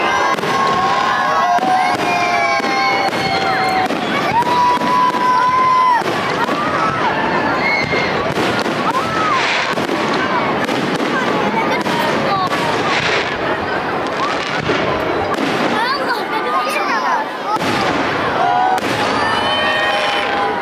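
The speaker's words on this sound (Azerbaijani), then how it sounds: "Konsert proqramından sonra möhtəşəm atəşfəşanlıq oldu." A large fireworks display after a concert at an outdoor celebration in Absheron, with loud crackling bursts, whistles and booms overlapping continuously over a cheering crowd.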